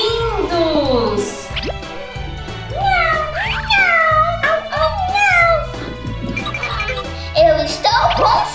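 A kitten meows repeatedly in high, drawn-out, wavering cries, close and fairly loud, over a steady rhythmic music bed.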